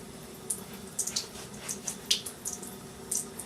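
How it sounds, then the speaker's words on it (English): Water trickles and drips into a shaving brush for wet shaving with an artisan soap, a handful of short splashy drips spaced irregularly, close and fairly quiet, with no talk. "water into the brush as we go here"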